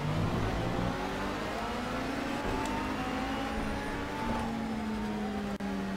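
Race car engine in the Project CARS racing game during a wet endurance race, a steady droning whine with slowly rising pitch, a second engine note briefly overlapping as a faster car overtakes, no speech.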